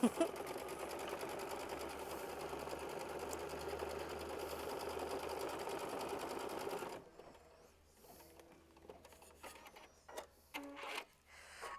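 Sewing machine stitching a quilt block, a steady rapid mechanical whir running loud for several seconds before stopping, then sparse clicks and small handling noises.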